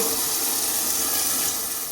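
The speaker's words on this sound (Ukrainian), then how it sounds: "коли ось я хочу просто злити воду з бачка, ось він спочатку миє по колу, вона йде таким кругом" Household toilet flushing from the cistern, with water rushing and swirling around the bowl in a steady loud wash that never lets up.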